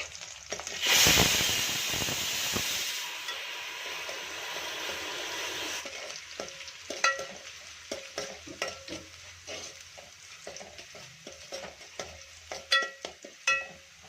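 Curry leaves, chopped garlic and green chilli frying in hot oil for a ridge gourd dal, starting with a loud burst of sizzling that settles into steady crackling, then repeated clanks of stirring near the pan.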